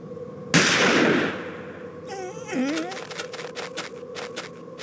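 In the Murder on the Orient Express adventure game, a sharp gunshot cracks out and rings into a decaying echo, followed by softer clattering and a voice speaking.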